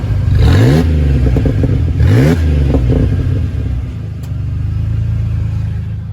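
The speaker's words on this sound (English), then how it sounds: "Just a little bit of revs for you guys" A 3-liter V6 car engine revs twice in quick bursts, pitch sweeping up and falling back, then settles into a steady low idle rumble; loud and close.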